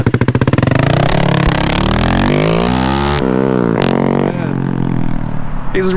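A Honda Grom motorcycle, rocked into gear with a far-out clutch and extra gas, revs up loudly close by, its engine pitch climbing through repeated rising sweeps and shifts before it pulls away.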